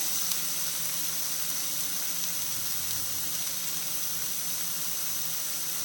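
Chopped onion sautéing in a pan for masala idly gives off a steady, even sizzle and hiss that runs throughout without breaks.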